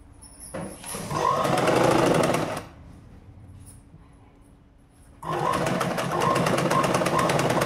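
A sewing machine stitches a jacket in two loud, close bursts of rapid mechanical whirring, separated by a quieter pause while the work is adjusted.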